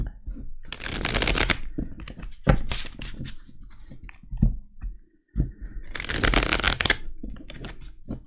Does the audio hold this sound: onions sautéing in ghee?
no